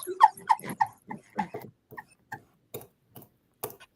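A small dog yips and whimpers in short, sharp bursts, loud and close at first, then thinning to sparse, quieter yelps at an indoor podcast recording.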